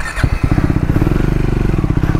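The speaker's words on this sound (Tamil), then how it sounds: "வண்டி செகண்ட் கீர்லேருந்து எடுத்தாலும் போதுரா." A Triumph Scrambler 400X motorcycle engine thumps loud and close in a steady, rapid single-cylinder pulse, with a brief clattering blip at the start before the even rhythm settles.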